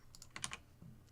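Computer keyboard tapped a handful of times in quick succession, soft clicks close by in a quiet room.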